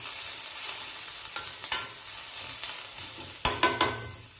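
Onions and fried buttermilk chillies sauté in a pan, giving a soft background sizzle with a few sharp spoon scrapes and stirring knocks near the end.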